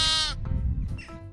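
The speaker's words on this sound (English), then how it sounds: "Lamb." A lamb bleats in a single loud, wavering cry, followed by a couple of shorter, fainter bleats, heard alone with no talking.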